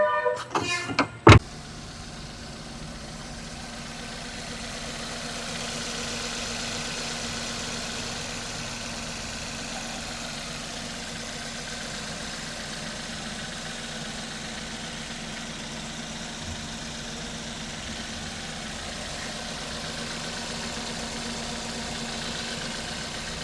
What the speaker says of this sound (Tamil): இதே வீடியோவில் நம்ம வண்டியோட இன்ஜினோட சவுண்ட் எப்படி இருக்குன்றதை அட்டாச் பண்ணி காட்டுறேன்